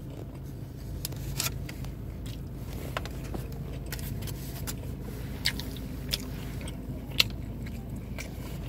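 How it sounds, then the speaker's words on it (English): Someone bites into and chews a cold taco from Rusty Taco in Dayton, Ohio, producing soft, close crunches and mouth sounds at irregular intervals over a quiet background hum. "Let me try a bite."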